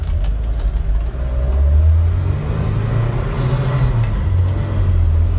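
A 1970 Alfa Romeo Giulia Super with a 1600cc engine pulls away, heard from inside as a steady, close engine drone that rises with acceleration and eases between gear changes.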